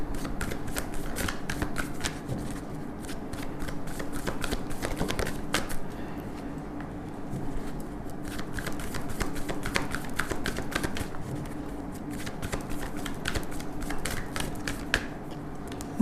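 Tarot cards being shuffled by hand, a steady stream of soft riffling and flicking taps that runs throughout at a moderate, close level, with no talking.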